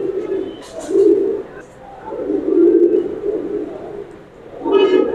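A Royal Teddy breeder pair of pigeons gives deep, rolling coos in repeated close swells, with someone talking between and over the calls.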